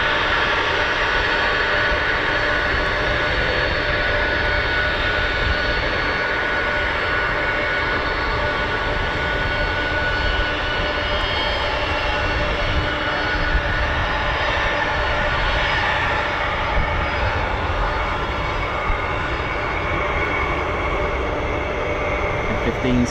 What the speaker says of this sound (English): F-15's taxiing out as well.